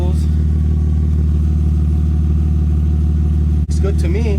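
A BMW 323is sits running with its drive shaft and axles spinning, giving a constant loud exhaust drone with a brief interruption near the end.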